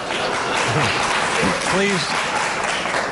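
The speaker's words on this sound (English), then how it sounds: "Please, no applause." A crowd at a gubernatorial debate claps in a dense, steady wash of applause while a voice speaks over it.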